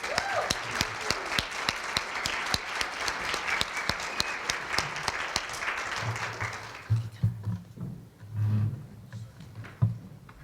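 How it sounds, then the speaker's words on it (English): Warm, sustained audience applause at a Champions of Diversity awards event, continuous for about six seconds before tapering into scattered claps as a voice begins speaking. "let's give them a nice round of applause."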